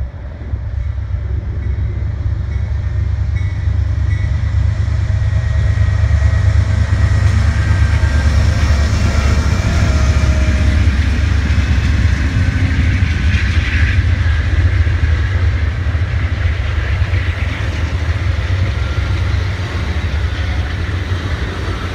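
Amtrak's Southwest Chief passenger train creeps into the Cicero Depot on BNSF's Chicago Sub, a loud, steady close rumble of engine and rolling wheels with faint metallic squeals and clatter throughout.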